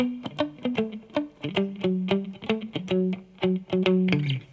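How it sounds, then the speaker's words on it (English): Chunky, muted electric guitar chords with a distorted edge, played in a steady choppy rhythm with short clipped strums and occasional sustained notes. "Just kind of maybe turn down your volume a bit or palm mute the whole thing."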